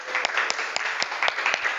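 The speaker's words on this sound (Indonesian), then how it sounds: "Mari kita beri tepuk tangan kepada kita semua." Schoolchildren in a classroom clap together after group presentations, a short burst of fairly quiet, uneven clapping with distinct individual claps standing out.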